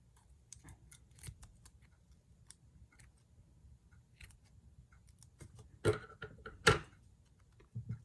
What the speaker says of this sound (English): we're going to use this tape because it doesn't rip that easily. And I'll just grab a scissor nearest to me.